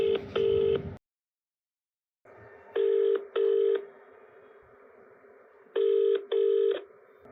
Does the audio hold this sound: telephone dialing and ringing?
yes